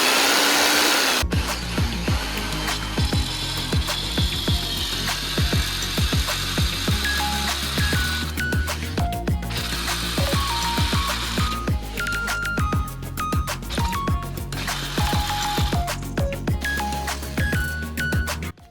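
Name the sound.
power tool running on motorcycle build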